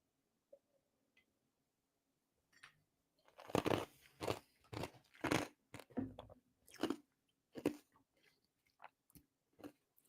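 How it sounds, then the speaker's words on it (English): Ice from an iced coffee is chewed up close, a series of loud, irregular crunches after a quiet start, with no talking. "Yes, I like to chew ice"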